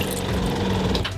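Newly installed RV water pump running, a steady buzzing mechanical whir with a rattly edge, close and continuous throughout.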